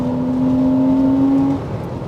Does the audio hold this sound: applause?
no